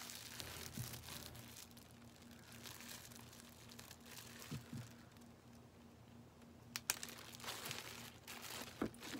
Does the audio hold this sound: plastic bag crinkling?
yes